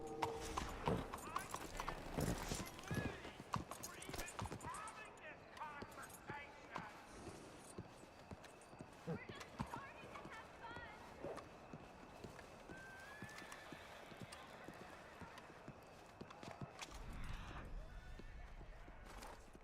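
Horse hooves clip-clopping in a video game, a steady run of hoofbeats with an occasional whinny, all fairly faint beneath someone talking.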